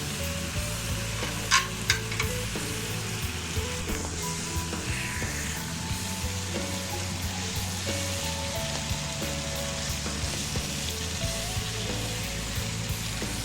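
Arvi pieces with masala and turmeric fry in a pan, a steady soft sizzle running throughout, with a couple of brief clinks near the start and no talking.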